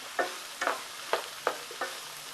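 Vegetables being stir-fried with spices in a pan for Maharashtrian bhogichi bhaaji, with five distinct scraping stirs at a steady rhythm over a soft sizzle, close and moderately quiet.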